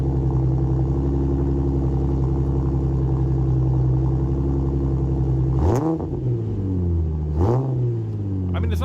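A V6 car with dual exhaust, a GT-style wing and a front grille idles with a steady, smooth low rumble, then gives two sharp revs that rise and fall back.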